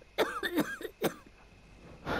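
A character in a Jack the Ripper murder-detective video game coughs in a rough fit of four or five close, harsh coughs, then a softer throat rasp at the end.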